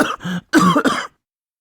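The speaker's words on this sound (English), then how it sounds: "coughing fit overtook her" A short burst of several harsh, close coughs in quick succession, then silence.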